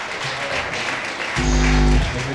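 A church congregation at a women's ministry gathering breaks into loud, sustained applause after a quieter stretch of murmuring room noise.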